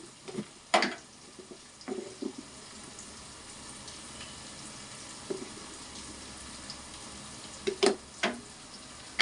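Fish frying in a pan with tomato and green chili, a soft steady sizzle broken by a few sharp clinks and stirring knocks, fairly quiet and close.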